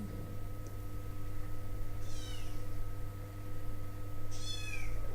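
A ginger cat meows twice, each call short and fairly close, over a steady electronic hum and background game noise.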